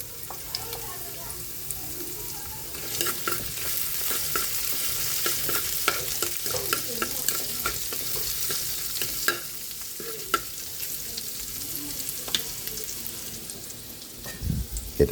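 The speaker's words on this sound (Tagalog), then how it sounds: "Magigisa na po tayo dito sa ating gulay" Garlic and vegetables, including squash, sauté in a pan, giving off a continuous bright sizzle with crackling pops and intermittent stirring scrapes, heard up close for the whole stretch without anyone talking.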